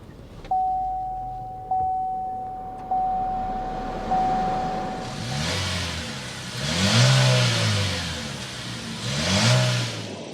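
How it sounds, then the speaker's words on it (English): A 2024 Chevrolet Equinox RS engine cranks with a few starter pulses, then catches and settles to idle. Several sharp revs follow, each rising and falling, with the exhaust note loud and close. "Let's go inside, start it up so you can hear that exhaust note."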